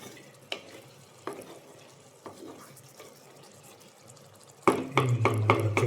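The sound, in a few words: stirring beef liver roast in a pan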